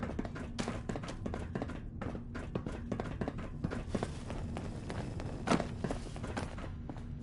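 Heavy footsteps in Fallout 4 thud in a steady, uneven rhythm, each step a clear, fairly close impact over a faint ambient background with no talking.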